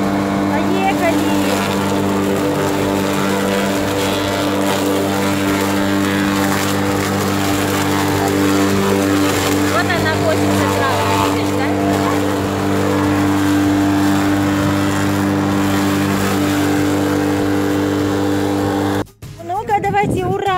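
A lawn mower engine drones loud and steady while cutting tall grass, holding a constant hum nearly to the end, where it cuts off abruptly.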